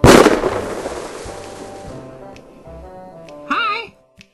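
A cartoonish bomb blast in a Christmas Lego animation: a loud, sudden explosion that decays over about two seconds, followed by a short vocal exclamation near the end.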